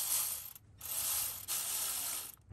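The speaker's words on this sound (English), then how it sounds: "I'll do the final tightening with my short ratchet." A short ratchet tightens the air tube clamps during a coolant temperature gauge install on a first-generation Toyota 4Runner, giving three bursts of rapid clicking separated by brief pauses, close up and fairly loud.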